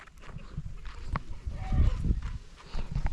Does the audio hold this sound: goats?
yes